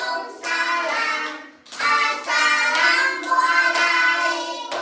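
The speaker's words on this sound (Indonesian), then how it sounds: "Tepuk tangan." Children clap their hands together in a classroom, quick bursts of loose, overlapping claps in two or three rounds separated by short pauses.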